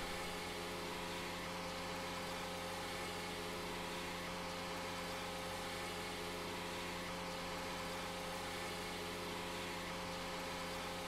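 An articulated tractor pulling a heavy cedar attachment idles with a steady, even engine drone and no talk in Farming Simulator 2013.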